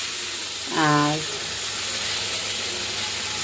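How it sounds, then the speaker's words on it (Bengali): Hand-cut spice paste sautéing in a pan gives a steady, even sizzling hiss throughout, with a short spoken word briefly over it. "তো এখন ভালো করে কষিয়ে নিচ্ছি আর কি মশলাটা"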